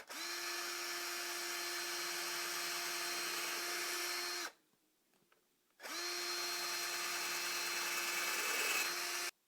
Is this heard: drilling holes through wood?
yes